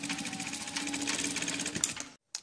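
A sewing machine stitches two layers of fabric for a hair scrunchie, a close, steady fast whirring of the needle that runs for about two seconds, stops abruptly, then gives one short burst.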